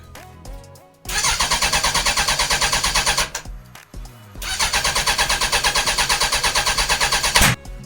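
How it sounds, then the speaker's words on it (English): Suzuki Bandit 1200 motorcycle engine cranking over in two long bursts of rapid rhythmic starter chugging, separated by a brief pause, ending in a sharp loud backfire bang up close. "Just cranked over and cranked over and cranked over, and then a massive backfire."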